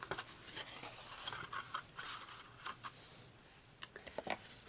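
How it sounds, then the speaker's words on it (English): Scissors snip along the edges and corners of a paper mini cupcake bakery box in quick, crisp cuts, close up and fairly quiet with short pauses between strokes. "So we're going to cut along the edges here and here on all four corners."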